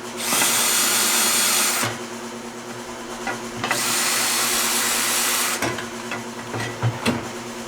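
A power drill taps a thread into metal on a 2x72 belt grinder in two loud, sustained whirring runs separated by a short pause, followed by quieter intermittent mechanical clicks and knocks.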